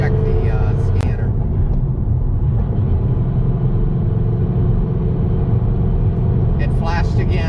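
A car with a transmission vibration and P0300 misfire trouble drives on a road, a steady low rumble of engine and road noise heard from inside the cabin throughout.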